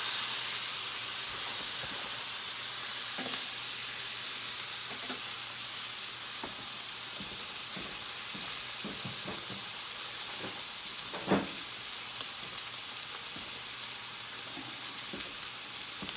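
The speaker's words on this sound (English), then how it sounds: "Hear that beautiful sizzle?" Steady, close sizzling of a porterhouse steak frying in a hot skillet, a bright hiss with faint crackles and occasional small pops, no voices.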